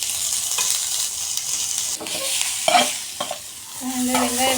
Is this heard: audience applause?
no